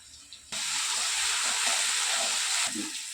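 Ginger garlic paste dropped onto browned fried onions in a pan, a sudden loud hissing sizzle that holds steady for about two seconds then fades, close up with no talking.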